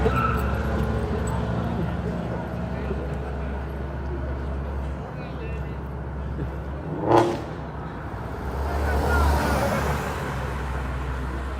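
A supercharged shop truck does a long burnout, a sustained rough engine roar with tire noise swelling and fading, one sharp burst midway, voices talking over it.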